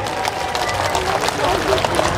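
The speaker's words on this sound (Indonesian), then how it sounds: "tepuk tangan untuk semua relawan yang berada di sini" Rally-goers at a mass walking event in Aceh clap for the volunteers, a busy steady patter of many hands. A voice talks loudly over the applause the whole time.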